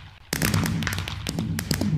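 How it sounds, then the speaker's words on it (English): Fireworks in the Minecraft video game, a rapid series of sharp crackling pops and bursts that start abruptly and continue in an irregular cluster, fairly close and moderately loud. "There's a little preview of the fireworks area."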